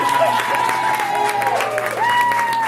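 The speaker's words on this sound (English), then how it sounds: "let's give Alan Choy a big round of applause" Cabaret audience applauding a pianist, with a bed of clapping and scattered cheers and whoops under sustained voices and tones.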